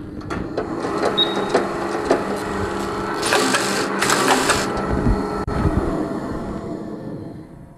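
A flat knitting machine for shoe uppers runs up close with a rapid mechanical clatter and rattling carriage, rising in two louder whirring passes before settling back, with no voices.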